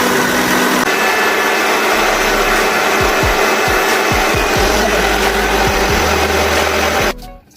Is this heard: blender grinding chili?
yes